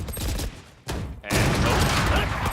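Gunfire from a competitive tactical shooter match at a tournament, with quick bursts of shots and clattering action that drop out briefly midway, then return as dense, loud, sustained shooting.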